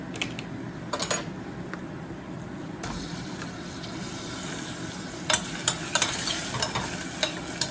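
Minced meat keema stirred and frying with browned onion in a pan for meat pasta, a steady close sizzle with a few sharper scraping stirs near the end.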